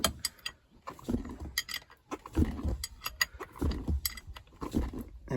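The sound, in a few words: bolt being pulled through 1989 F150 Hurst shifter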